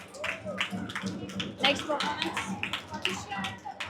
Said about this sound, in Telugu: గట్టిగా క్లాప్స్ ఇద్దరికి.